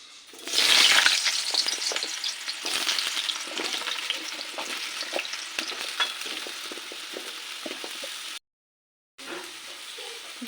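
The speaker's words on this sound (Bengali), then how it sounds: "প্রথমেই কুমড়ো আর আলুটাকে ভেজে নেব।" Pumpkin and potato pieces hit hot mustard oil in a pan for a Bengali vegetarian curry, erupting into a loud, close sizzle that settles into steady frying with occasional stirring scrapes and a brief cut to silence.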